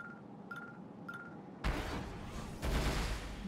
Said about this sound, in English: Triple rockets, and I am some distance away, so this ought to be impressive.